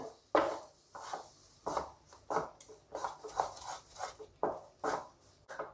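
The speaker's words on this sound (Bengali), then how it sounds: "এবারে মিল্ক মেডের সঙ্গে বেসনটাকে ভালো করে নাড়াচাড়া করে নিতে হবে।" Besan stirred with condensed milk in a pan over a low flame, a steady run of soft scraping strokes, close and quiet with no talk.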